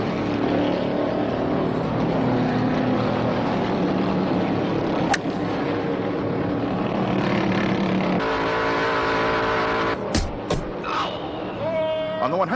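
Race cars on the track at a 1971 race at Ontario, California, a steady engine roar with passing cars rising and falling in pitch, under continuous commentary.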